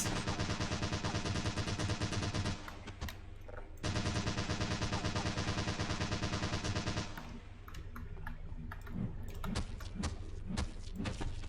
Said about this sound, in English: Vortigaunt on the mounted LMG. What will he shoot?